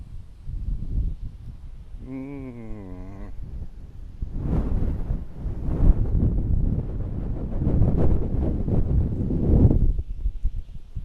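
Wind gusting across a golf course green in Barbados, buffeting the microphone with a low roaring rush that swells and fades in waves, with a brief wavering tonal sound early on.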